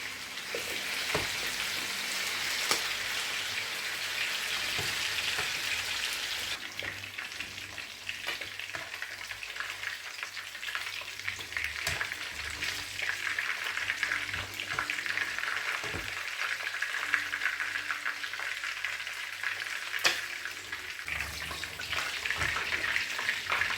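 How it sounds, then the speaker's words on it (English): Steady, crackling sizzle of pork frying in a hot pan for shawarma, continuous and close, with occasional clinks and stirring noises. "I'm going to be frying my pork meat."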